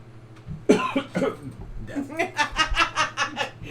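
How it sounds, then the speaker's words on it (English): A quick cough bursts out, followed by breathy chuckling and snickering that rises into a run of rhythmic laughter. "Let me cough in your face."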